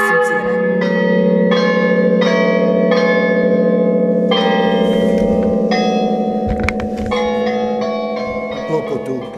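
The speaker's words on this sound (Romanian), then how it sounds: "nu putem spune că vom generaliza ca sunet ritmurile clopotelor" Church bells in the belfry of the church in Ileanda, struck by an automated electronic ringing system, sound in repeated rhythmic strokes over a sustained ringing hum, loud and close, with no speech.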